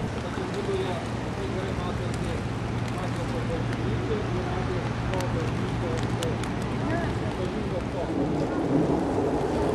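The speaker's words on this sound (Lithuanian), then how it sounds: "Lyja lietutis." Steady rain with rumbling thunder in Croatia: a dense, continuous hiss of falling rain with a low, sustained rumble underneath, loud and constant throughout with no pauses.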